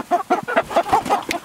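Chickens clucking close by in a quick, rhythmic series of short excited calls, with no talking.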